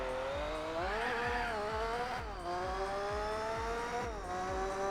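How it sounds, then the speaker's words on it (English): A car engine in the Gran Turismo 4 racing game revs steadily with a buzzing tone and rises in pitch through gear changes, loud and continuous with no other sound. "I thought it was a V6 forever because of just how it sounds in this game"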